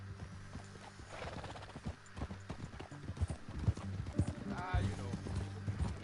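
Steady clip-clop of horse hooves trotting close by, with a horse whinnying and people talking over the rhythmic beats.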